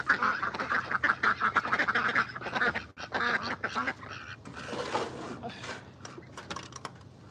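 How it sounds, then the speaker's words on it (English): Ducks on a rainy homestead in northern Canada quack loudly and repeatedly in a busy, overlapping chorus close by, gradually thinning out toward the end. "We got some ducks."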